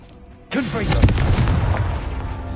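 The Confringo fire spell in Hogwarts Legacy erupts with a sudden loud blast, then a deep rumbling burst of flame and debris that rolls on and slowly fades, close and powerful.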